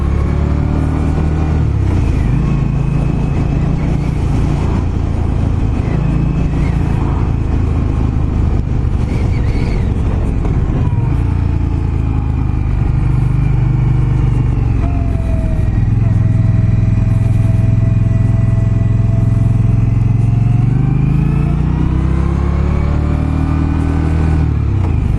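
Indian Scout Bobber motorcycle on the move, a loud rumbling engine whose pitch rises and falls with revving and shifting, close and continuous while a rider talks over it.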